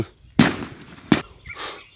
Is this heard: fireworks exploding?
yes